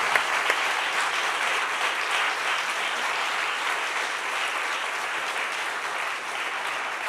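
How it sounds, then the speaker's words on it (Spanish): A church congregation breaks into sustained, dense applause during a sermon, loud and even throughout with no voices standing out. "Dele un aplauso al Señor por eso, hermano."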